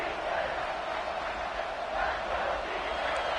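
A stadium crowd at a South Carolina college football game roars in a steady, dense wash of cheering and shouting that holds evenly from start to finish.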